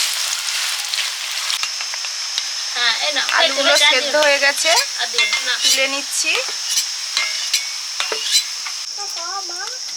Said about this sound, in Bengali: বেরেস্তা পেঁয়াজ ভাজা চলছে